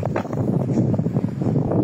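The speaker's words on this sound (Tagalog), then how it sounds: "Ang presko, ang lakas ng hangin." Strong wind at a beach buffets the microphone with a steady rushing roar, low and blustery, with no voices present.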